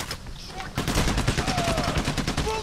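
Machine gun fire in the heist shooter PAYDAY: The Heist rattles in rapid, loud bursts of repeated shots after a brief quieter opening, with game sounds layered over it.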